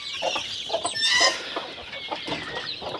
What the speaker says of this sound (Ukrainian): Ці півники так смішно починають кукурікати